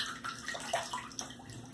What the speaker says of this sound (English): Right now I'm just putting a little bit of water on the top to loosen it up while I wet the brush.